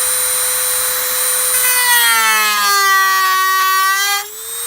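A Dremel rotary tool cuts Kydex holster material with a loud, close, high whine whose pitch sags as the bit bites, then recovers and tapers off.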